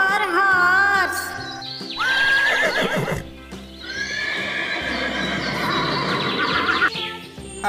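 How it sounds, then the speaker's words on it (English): A horse neighs loudly in a long, shaky whinny with hoof clip-clops, layered over upbeat children's song music. "H for horse."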